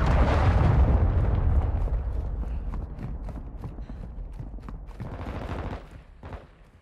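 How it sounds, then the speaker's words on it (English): A heavy cruise missile explosion in the video game Modern Warfare II opens with a loud booming rumble, then decays into scattered crackling gunfire and debris pops before fading out. "Friendly cruise missile approaching the target."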